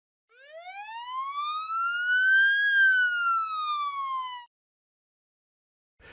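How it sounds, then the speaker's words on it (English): A single smooth ambulance siren tone rises in pitch, then slowly falls as it passes, clear and alone against silence, ending abruptly. "the sound of an ambulance's siren seems to change as it approaches"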